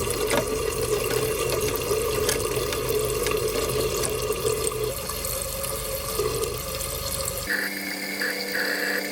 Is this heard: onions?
no